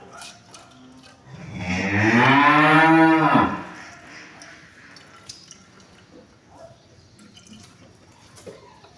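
A single long, loud cow moo rises and swells for about two seconds, then fades, leaving quiet background with faint dripping and shuffling.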